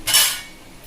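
A spoon strikes a pot with one quick clink while stirring coconut into green peas kurma, then a short scrape fades into quiet.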